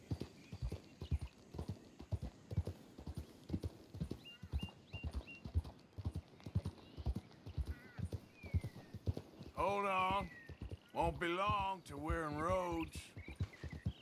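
Horse hooves clip-clop in a fast, steady rhythm as an elite horse gallops in the video game Red Dead Redemption 2, with a few whinnies and a voice talking over the hoofbeats later on.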